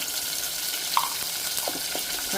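Asafoetida dropped into hot oil while tempering moong dal, producing a dense, steady, close sizzle that crackles evenly throughout with no talking.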